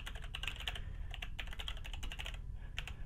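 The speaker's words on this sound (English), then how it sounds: "so I'm going to go ahead and just type in my" Fingers type on a computer keyboard in quick clusters of close, crisp keystrokes, with short pauses between the runs and no voices.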